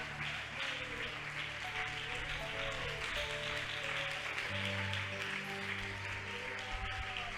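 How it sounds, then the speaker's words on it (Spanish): A church congregation applauding during a sermon, a continuous wash of clapping at moderate distance with a sustained musical tone beneath it and no clear speech. "Dale fuerte ese aplauso a Él."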